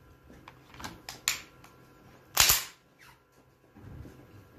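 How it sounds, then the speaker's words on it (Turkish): Canik TP9 SA pistol fired at a shooting range: a few sharp, faint reports spaced irregularly, one noticeably stronger crack in the middle, with quiet range noise between them. "Evet Mehmet Bey, bir de siz deneyin bu silahı."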